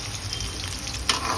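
Chopped onions and green chillies sizzle in a pan while being stirred, a dense, steady frying hiss close up, with a brief scrape of the stirring spoon near the end and no talk.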